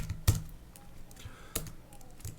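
Typing on a computer keyboard, a few sharp separate key clicks spaced over a couple of seconds, close and fairly quiet.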